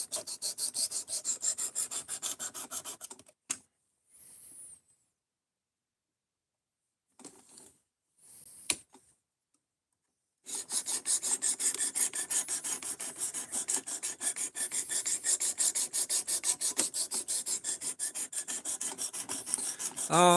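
A knife blade of 3Cr13 steel drawn along a sharpening stone at 18 degrees, giving repeated close, rasping strokes in rapid rhythm, broken by a few seconds of near silence and brief scrapes before steady stroking resumes.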